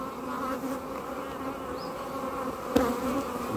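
Honeybees on a brood frame from a hive hum in a steady, close, moderate buzz, with a short knock partway through.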